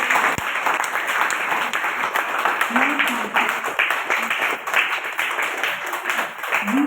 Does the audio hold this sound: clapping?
yes